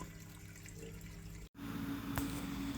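Water runs and splashes steadily over dry koki beans set to steep for an African bean cake, a continuous close pouring wash that breaks briefly and resumes louder.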